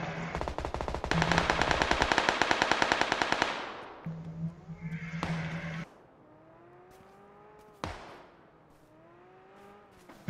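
Rapid automatic gunfire in PUBG: Battlegrounds, a loud sustained burst of close shots, then short bursts and a few single cracks with engine-like whines between them.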